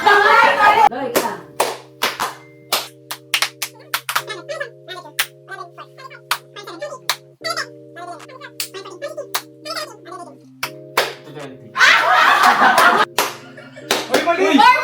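Hand claps during a counting game among friends in Baguio: sharp, irregular single claps spread through the stretch, with bursts of lively chatter and laughter at the start and end, plus a steady electronic hum underneath.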